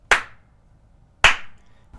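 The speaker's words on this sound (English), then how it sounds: "I'm going to clap my hands like I did before." Two sharp hand claps about a second apart, close to the microphone in a small acoustically treated room, each with a short, quickly fading tail and little ringing.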